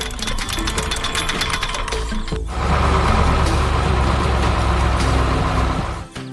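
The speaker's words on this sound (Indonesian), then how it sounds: "Perhatikan bagaimana lengan bor itu bergerak dengan kuat, mengikis tanah dan batuan keras dengan sangat efisien." Heavy drilling rig boring through soil and hard rock on a muddy field, a loud, steady mechanical grinding and engine rumble that thickens partway through and runs continuously before dropping off at the end.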